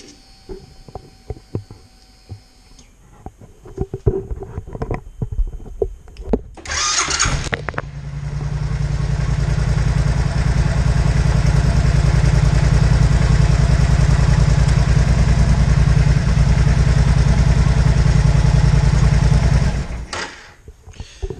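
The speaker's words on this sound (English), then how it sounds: "I'll turn it on and give it a bit of rev and show you what she looks like." A motorcycle fitted with a Gman Bully controller cranks and fires up after some clicks and handling noises, then holds a loud, steady idle with slight revs for about twelve seconds before cutting off.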